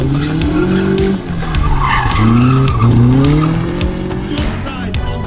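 Kit car tyres screeching as the car spins a 360 at a kit car show, with loud wavering squeals rising and falling over engine roar, close by, with a voice faintly underneath.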